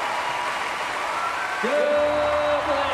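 Applause from the crowd at a Paralympic powerlifting event in London, steady clapping that runs under a voice coming in partway through.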